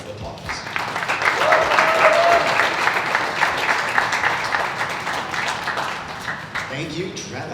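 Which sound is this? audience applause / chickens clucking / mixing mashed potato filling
audience applause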